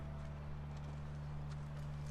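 A horse walks with steady clip-clop hoofbeats in The Last of Us video game, faint under a constant low hum and background tones.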